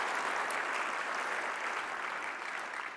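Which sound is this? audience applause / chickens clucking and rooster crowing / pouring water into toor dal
audience applause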